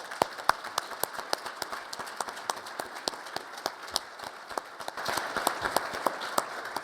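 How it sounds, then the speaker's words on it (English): Scattered clapping from an audience honoring FBI Director Wray at a conference event, with distinct individual claps at an uneven rhythm, thickening briefly near the end. "How about a round of applause for Director Wray?"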